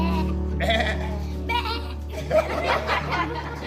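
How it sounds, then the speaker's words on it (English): Sheep bleat in a few wavering, nasal calls at close range, rising and falling over a low steady hum, with a voice speaking alongside. "We have our sheep."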